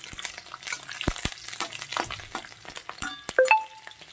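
Green chillies and garlic dropped into hot oil crackle and sizzle loudly at close range, with a few sharp spitting pops and stirring scrapes and no voices.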